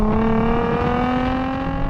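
Nissan 350Z engine holding a steady drone with strong harmonic tones, rising slightly in pitch as it runs continuously at a constant loud level.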